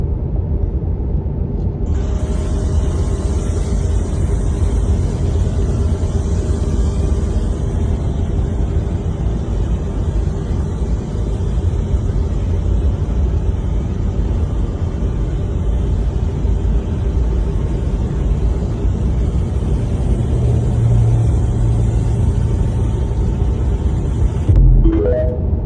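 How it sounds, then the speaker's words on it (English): Military vehicles driving, heard as a steady low engine rumble and road noise that holds for the whole stretch, with a brief louder thump near the end. "Look at the military vehicles they got ready."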